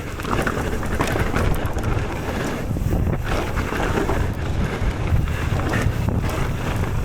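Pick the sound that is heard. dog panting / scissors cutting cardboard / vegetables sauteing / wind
wind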